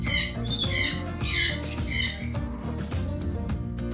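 Parrots at a bird farm, among them grey parrots and lories, give loud harsh squawks in four bursts about half a second apart, close and repeated over a muffled background.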